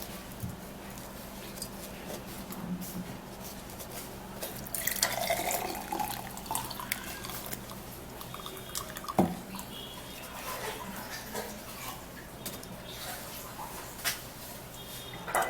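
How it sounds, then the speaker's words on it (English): Liquid from a herbal drink trickles and drips through a strainer close by, a continuous soft splashing with a few louder drops and clinks. "Now let me sieve it out and show you just the juice that you are supposed to be drinking."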